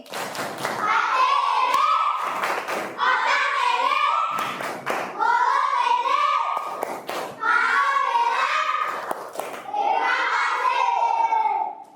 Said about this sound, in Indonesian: Tepuk terima kasih.